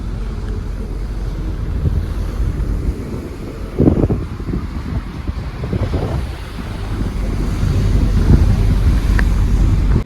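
Strong wind on the open deck of a Viking Line cruise ship between Sweden and Finland buffets the microphone in loud, rumbling gusts, with a continuous roar that swells louder toward the end.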